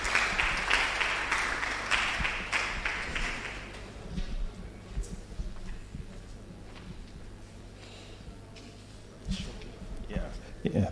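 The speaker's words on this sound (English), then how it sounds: "Please, a round of applause for Professor Tesla." At a university postgraduate lecture-series event, an audience applauds for a professor, with a loud burst of clapping over the first few seconds that thins into scattered claps and murmuring talk.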